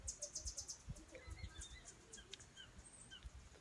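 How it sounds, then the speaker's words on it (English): Outdoors in Costa Rica, faint birds chirp sparsely in the distance over low background rumble and a soft insect-like hiss, everything quiet and far off. "Birds are chirping, there's beautiful butterflies everywhere."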